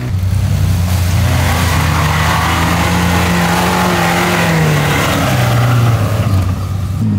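A Suzuki Vitara off-road car with its weakest engine revs loudly and continuously nearby at an off-road expedition event, the engine note rising and falling under constant strain.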